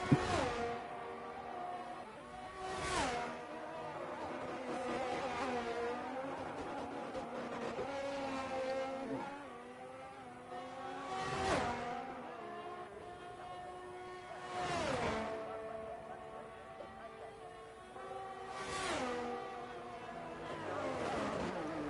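Several sim racing cars in an Oceania Racing League division-one online race, their engines droning with rising and falling revs as they accelerate and shift through a corner, with repeated whooshes of cars passing close by.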